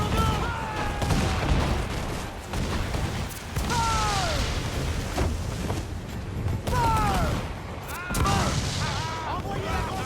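Ship cannons fire in repeated booming volleys during a naval battle in Assassin's Creed IV Black Flag, with creaking timbers, whistling and swooping effects, and loud continuous battle noise under shouted voices.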